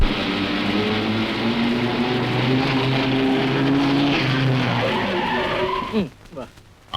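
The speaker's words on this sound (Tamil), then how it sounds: "என்ன சத்தம் கேக்குது ஐயோ வண்டிங்க அப்படிதான்" Loud, steady roar of vehicles passing close by for several seconds, engine drone and tire noise filling the scene before dropping away abruptly near the end.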